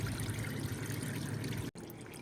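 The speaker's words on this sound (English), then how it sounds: "the transmission is still draining more and more fluid, and it's going into my pan here." Transmission fluid from a 2017 Dodge Grand Caravan drains steadily into a catch pan, a continuous close trickle and pour with a brief break near the end before resuming.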